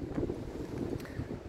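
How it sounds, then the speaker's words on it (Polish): Strong, steady wind gusting through an orchard in February where a cherry tree is being pruned, a continuous blustery rush buffeting the microphone with no talk. "słyszycie porywy wiatru coraz większe"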